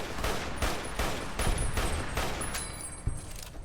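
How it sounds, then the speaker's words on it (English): Rapid bursts of automatic rifle fire from the This Machine rifle in Fallout New Vegas, loud repeated shots in quick rhythmic volleys with sharp cracks, mixed with other in-game gunfire and a ringing metallic tone. "This machine might be my favorite gun to use in the whole entire game."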